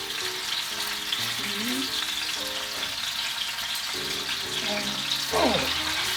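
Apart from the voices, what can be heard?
rouladen browning in a frying pan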